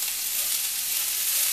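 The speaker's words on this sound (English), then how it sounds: "while these onions are browning, or sauteing" Onions sauté in a pan, a steady, close sizzle of frying that stays even throughout with no voices.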